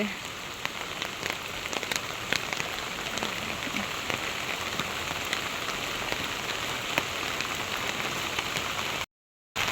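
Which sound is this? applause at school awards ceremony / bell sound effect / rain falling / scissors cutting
rain falling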